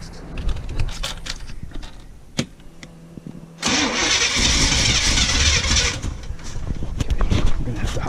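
A small engine is started with the choke closed. Scattered clicks and rattles come first, then the engine catches with a loud, close roar that runs steadily and rises again near the end.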